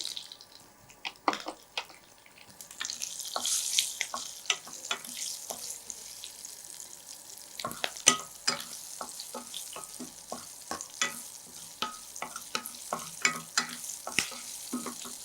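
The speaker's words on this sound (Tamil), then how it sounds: "இப்போ கடுகு வெடிக்க ஆரம்பிச்சிருச்சு பெருங்காயத்தூள் சேர்த்துக்கிறேன் இதோட பச்சை மிளகா மூணு பச்சை மிளகா கட் பண்ணி வச்சுருக்கேன் இதையும் சேர்த்துலாம்" Mustard seeds spluttering in hot oil in an Indian kitchen with asafoetida, chopped green chillies and ginger, while making puli inji; dense irregular crackling pops and sizzle, close, with stirring clinks and no talk.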